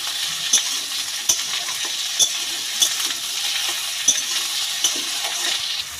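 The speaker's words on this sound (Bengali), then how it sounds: "তেলের মধ্যে আলু বেগুনটা দিয়ে ভালো করে ভেজে নেব।" Potatoes, eggplant and slit green chillies fry in hot oil, a steady close sizzle broken by sharp spatula scrapes and stirring taps at roughly one-second intervals.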